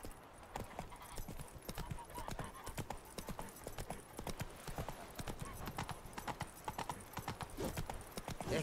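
Roach the horse's hooves clip-clop in a steady trotting rhythm through The Witcher 3, the rapid beats fairly close and continuous, with faint voices and game ambience underneath.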